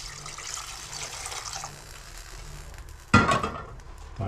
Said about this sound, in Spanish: Y ahora sí agregamos más agua.